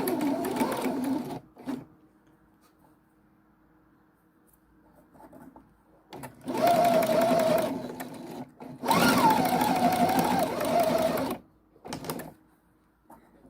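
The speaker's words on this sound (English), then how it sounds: "Start by having your fabric back to back, and you will sew a seam" A sewing machine stitches a quarter-inch seam through thin, lightweight fabric placed back to back, running in three loud bursts of steady whirring, the longest two lasting about two to three seconds each, separated by quiet pauses with small handling noises.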